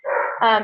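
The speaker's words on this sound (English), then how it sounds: "sorry about the dogs in the background." Dogs barking in the background during a call, two quick close yelps or barks in a row, brief and fairly loud.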